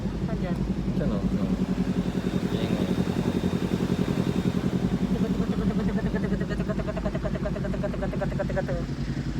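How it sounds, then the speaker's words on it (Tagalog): A motorcycle engine runs nearby while people wait in a queue, a steady close putter and clatter continuing under talking voices for the whole stretch. "nagulat ako doon sa tunog ng motor"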